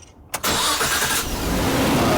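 A Nissan Skyline R34 car engine cranks briefly and catches, then settles into a steady loud running rumble close by.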